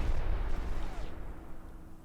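A grenade bursts in the video game Space Station 13 with a low booming blast that rolls out and fades over a couple of seconds, fairly faint overall.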